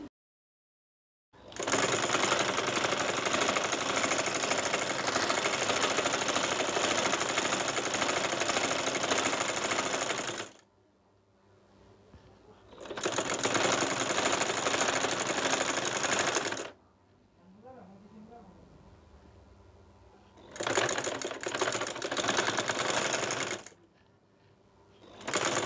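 A sewing machine stitches a size 38 palazzo in three long continuous runs, each lasting several seconds. The runs are loud, close and steady, separated by quiet pauses.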